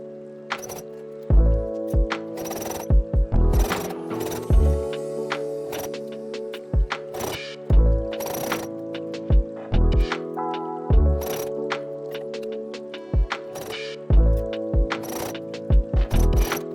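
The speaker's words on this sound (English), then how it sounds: "Stitch carefully so that both the inside and outside of the cuff catch cleanly." A sewing machine stitches the sleeve cuff of a romantic blouse, running in repeated loud mechanical bursts with a steady whirring drone, separated by sharp clunks and brief stops.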